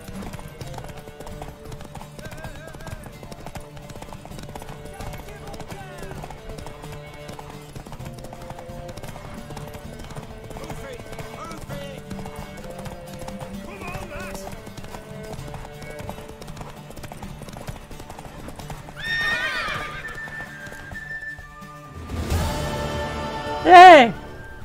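Steady rhythmic hoofbeats clop along under a low ambient background in The Witcher 3: Wild Hunt, followed near the end by a loud horse whinny and a snort.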